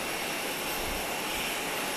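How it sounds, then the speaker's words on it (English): A de Havilland Canada DHC-6-300 Twin Otter propeller plane drones steadily at Grand Cayman airport, a constant broadband roar with no breaks and no voices. "I believe that is the de Havilland, Canada DH-6-300 Twin Otter."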